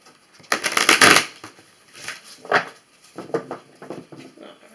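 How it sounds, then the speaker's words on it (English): Tarot and oracle cards shuffled by hand close up, giving soft papery riffles and flutters in several short bursts with brief pauses between them. "So let's shuffle these up as well and we'll get a go."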